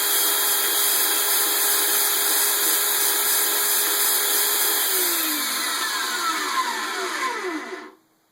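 A Northern Industrial portable band saw motor runs steadily at idle, a loud continuous whine with tonal hum, then spins down with a falling pitch and stops near the end.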